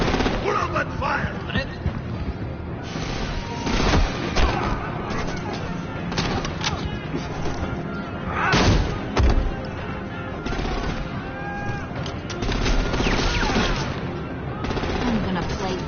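Gunfire in a Batman Telltale season 2 scene, repeated shots and rattling bursts over a busy, loud action backdrop, with voices speaking intermittently through the commotion.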